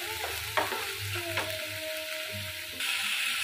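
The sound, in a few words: frying spice paste with ginger, turmeric, chilli powder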